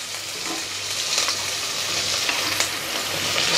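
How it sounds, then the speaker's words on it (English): Onions frying in a pan for Barbadian jerk chicken give a steady, close sizzling hiss with faint crackles, without talking. "So we're gonna put our onions in. Yeah, that's that noise you want."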